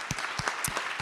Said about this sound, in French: Et je tiens vraiment à ce que vous applaudissiez nos intervenantes ce matin